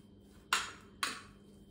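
Coriander being mixed into food in a pot, heard as two sharp metallic clanks about half a second apart, close and fairly loud, over a quiet background.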